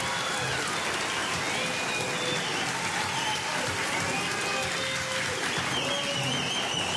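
Steady, dense audience applause for a singer at an evening performance, a continuous wash of clapping from a crowd with faint cheers mixed in.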